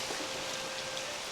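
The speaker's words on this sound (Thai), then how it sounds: "วันนี้ท่ามกลางบรรยากาศฝน" Steady rain falls outdoors in a rural village setting, forming a continuous, even hiss with no distinct drops and no voices.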